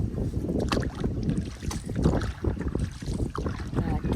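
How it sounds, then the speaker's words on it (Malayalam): Strong wind buffets the microphone outdoors in the hills at Peechipadam near Vaniyampara in Kerala, a loud continuous rumbling roar with gusty surges throughout. "ഈ ഭാഗത്ത് നല്ല കാറ്റുള്ള പോലെ."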